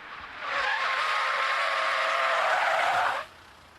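An off-road family car from 2000 braking hard on a test track, tyres letting out a loud, sustained squeal for about three seconds that then cuts off abruptly, with no talk over it.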